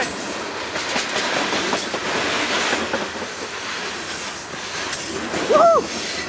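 A CSX freight train, locomotive 5333 leading train G753, rolls steadily past on the rails with continuous rumbling clickety-clack and hiss, close and loud, and a short wheel squeal toward the end.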